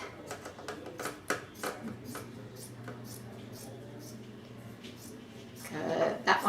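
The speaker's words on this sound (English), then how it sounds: "Make sure your scissors are really good and sharp so they can get through a couple layers of fabric." Sharp scissors snip through a couple of layers of T-shirt fabric, giving a run of quick, crisp cuts in an uneven rhythm, close by, over a soft room background.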